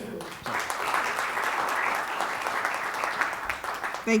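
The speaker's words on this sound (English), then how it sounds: "So give the mayor a round of applause, please." A community forum audience on water conservation claps for the mayor, the applause starting abruptly after a brief pause and holding steady, a broad, lively patter of many hands, close and fairly loud, ending as a voice begins.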